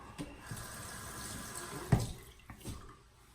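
Cold water running from a bathroom tap during a rinse after shaving with a lather machine, a soft steady stream with a brief louder splash partway through, fairly quiet and close.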